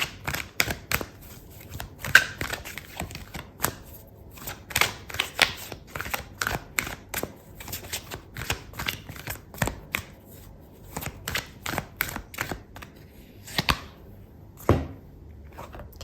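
Tarot cards being shuffled and drawn, a run of crisp, close riffling snaps and flicks in irregular bursts separated by brief quiet gaps.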